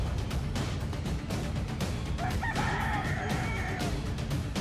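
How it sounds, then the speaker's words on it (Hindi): Roosters sparring in winter sunshine during a training fight, with a crow rising over a steady crowd-like hum and scuffling in the background. "सर्दी की धूप में एक दूसरे को पटखनी देते ये मुर्गे फिलहाल ट्रेनिंग ले रहे हैं"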